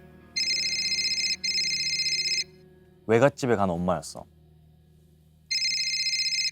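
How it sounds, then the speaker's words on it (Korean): A telephone bell rings in two electronic trilling bursts, a pause, then a third, loud and close; a voice speaks briefly in the gap between rings. "그리고 갑자기 울리는 전화벨 소리."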